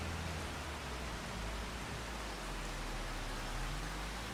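Steady, dense rain hiss in Farming Simulator 25 fills the whole stretch, even and unbroken with a low rumble underneath, with no voices.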